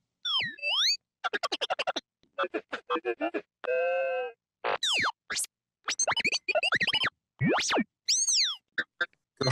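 Processed Astromech droid voice with an ionized filter effect: a rapid string of chirps, warbles, buzzy trills and sweeping beeps, sharp and electronic, coming in short bursts separated by brief silences.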